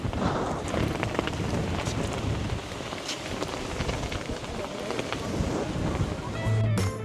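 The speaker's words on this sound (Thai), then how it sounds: "ลมค่อนข้างแรงมากนะครับ" Strong wind buffets the microphone at the Hin Sam Wan rock viewpoint in Bueng Kan, a steady loud roar and rumble that fills the whole stretch.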